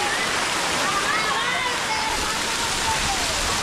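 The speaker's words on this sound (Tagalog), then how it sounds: "Ang Mainit Falls ay matatagpuan sa bayan ng Maco sa Compostela Valley sa Davao de Oro." Mainit Falls waterfall in Maco, Davao de Oro, roaring with a steady, dense rush of falling water close by, a few faint voices mixed into the spray.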